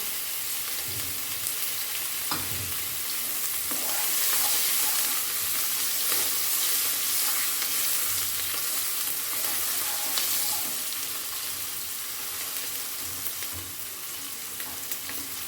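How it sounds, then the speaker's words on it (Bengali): Chopped onion, garlic and ginger sizzle steadily in a hot pan for a pabda fish curry, a continuous close frying hiss with occasional soft stirring clicks and no talking. "এবার একটু পেঁয়াজ রসুন আদা কুচি করে দিলাম।"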